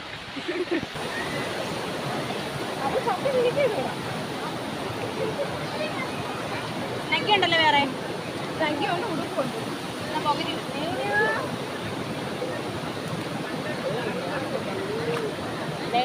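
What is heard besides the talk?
water flowing at Ponmudi stream where friends bathe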